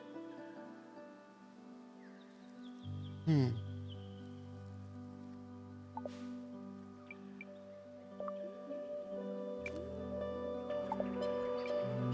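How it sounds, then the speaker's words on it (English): Water drips in the video game Mutazione, scattered soft plops and squishy droplets sounding over a low sustained ambient drone and tonal music bed, quiet and spacious. "It's water."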